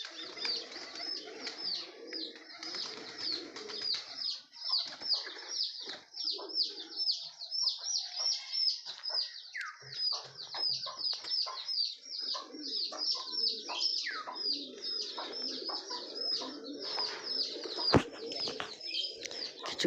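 Pigeons coo and flutter in a loft, with layered throaty calls overlapping almost continuously and rising and falling in loudness from nearby birds.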